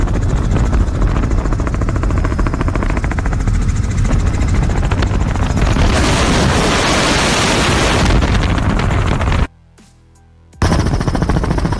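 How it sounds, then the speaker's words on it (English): A helicopter roars overhead with loud rotor chop and wind buffeting, broken briefly by a near-silent gap before the noise returns. "Helicopter."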